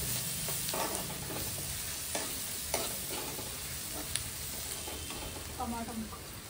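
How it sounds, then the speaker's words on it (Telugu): Onions and tomatoes for boiled egg curry sizzle in a hot pan while a spoon stirs them, giving steady close frying crackle with occasional scraping taps and no talking. "ఆనియన్స్ అయితే ఉడుకుతున్నాయి మొత్తం. అండ్ ఇప్పుడు టమాటాలు అయితే వేసేస్తున్నాం."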